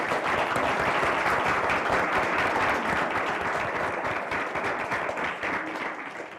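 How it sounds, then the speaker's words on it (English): An audience at an evening keynote event gives a full, steady round of applause, dense clapping that holds strong and then slowly thins near the end. "Please give them a round of applause for their work on tonight's event."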